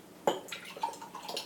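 Effervescent homemade kefir is poured from a jar: a sudden splashing gush starts after a quarter second, then a continuing bubbly trickle with faint fizzy crackles, close and fairly quiet.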